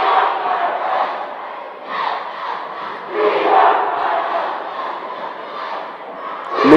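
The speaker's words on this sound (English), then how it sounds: "Near capacity crowd here tonight." A near-capacity crowd roars steadily through a high school boys' varsity basketball game between North Daviess and Bloomfield, swelling and dipping in a continuous wash of cheering and shouting in the gym.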